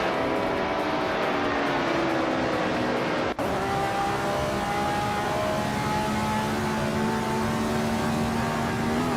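A Lotus 49 race car in a racing video game drives steadily, its engine tone holding and slowly shifting in pitch with a brief sharp click partway through, loud and continuous without talk.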